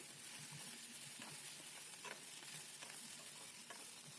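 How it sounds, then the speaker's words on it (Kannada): Onions with Byadgi and Guntur red chillies fry in a pan for onion chutney, producing a steady, dense sizzle with faint stirring scrapes, close and continuous with no talking. "3 ಬ್ಯಾಡಗೆ ಮೆಣಸಿನಕಾಯಿ ಹಾಗೆ 4 ಗುಂಟೂರು ಮೆಣಸಿನಕಾಯಿನ ಹಾಕಿ ಇದು ಸ್ವಲ್ಪ ಲೈಟ್ ಬ್ರೌನ್ ಕಲರ್ ಬರೋ ತನಕ ಫ್ರೈ ಮಾಡ್ಕೊಳ್ಳಿ"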